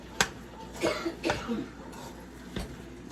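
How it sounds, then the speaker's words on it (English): Several coughs from a person a little way off, a sharp one first, then a cluster of three close together and a last one after a pause. "excuse my mama in the back coughing"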